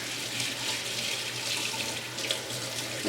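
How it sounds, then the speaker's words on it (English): A sink tap runs in a steady, close rush of water while makeup brushes are rinsed under it, with small shifts in the splash as the bristles move through the stream and no voices. "I give all my brushes a good rinse."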